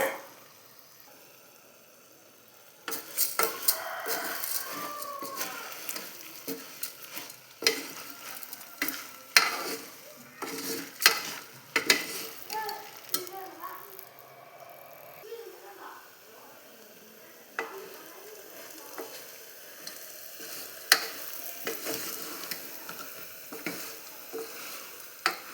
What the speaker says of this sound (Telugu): 100 గ్రాముల కందిపప్పుని కూడా యాడ్ చేసి లైట్గా రంగు మారేంత వరకు ఫ్రై చేయండి